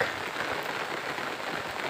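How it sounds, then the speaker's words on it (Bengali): Rain falls in a soft, steady patter on a hard surface. It is even and fairly quiet throughout, with no voices. "দুপুরের শেষে বৃষ্টি"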